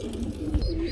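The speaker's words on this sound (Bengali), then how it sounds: "দেখতে পাচ্ছেন ওভার লাইট কালারের মধ্যে আমরা এক জোড়া শার্ডিং কবুতর দেখতে পাচ্ছি" A pair of pigeons gives a soft, low cooing that stays close and steady for a brief moment with no talk.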